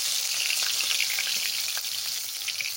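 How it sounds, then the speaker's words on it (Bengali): Khoiri fish fry in hot oil in a pan, a dense, bright, continuous sizzle that stays close and steady throughout, with no voices. "এরকম লাল লাল করে ভাজা করে দিচ্ছি।"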